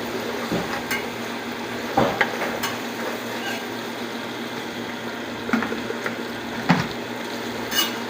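Okra, or bhindi, stir-fried in a pan for a dhaba-style bhindi dish, with a steady sizzle and occasional scrapes and knocks of the spatula, close up and with no talking.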